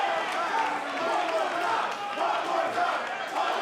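A wrestling crowd at a 2016 Cruiserweight Classic tournament match roars and shouts steadily throughout, a dense, loud wall of voices with no breaks.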